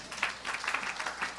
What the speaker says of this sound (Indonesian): Yang setuju kasih tepuk tangan yang meriah.